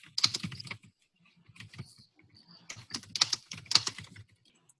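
Computer keyboard typing during an online class meeting, with irregular clusters of close keystrokes broken by pauses, soft and nearby, and a faint voice briefly audible.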